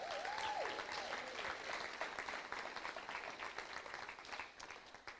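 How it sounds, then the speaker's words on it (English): A church congregation applauding at a Sunday teaching, broad sustained clapping that fills the room and tapers off slightly near the end, with a brief voice at the very start. "Let's give Sal a round of applause."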